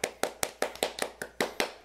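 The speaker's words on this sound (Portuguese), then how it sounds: "Só quero dar aplausos para" A single person claps about nine times in an even, quick rhythm, close and fairly quiet, with no voices over it.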